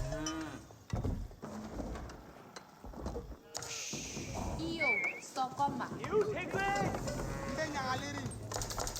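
Cattle moo in an Age of Empires 4 match around a Malian cattle ranch area, several low drawn-out bellows mixed with game effects and hoof-like clopping, with a commentator talking over much of it.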